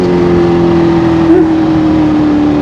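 A Kawasaki H2 motorcycle fitted with a Vandemon full system exhaust holds a loud, steady high-rpm engine drone, with a brief blip midway, close and continuous throughout.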